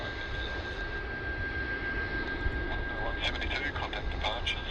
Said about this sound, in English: Flight Takeoff